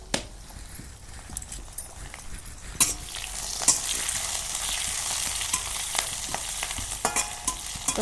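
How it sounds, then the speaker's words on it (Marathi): Green chillies and curry leaves sizzle steadily in a pan over a wood-fired chulha for a Kolhapuri zunka, with garlic in the oil; a constant close frying hiss is broken by sharp spatula scrapes and clicks while it is stirred. "आता हिरवी मिरची छान भाजून झालेली आहे, लसूण पण आपला छान लाल झाला आहे."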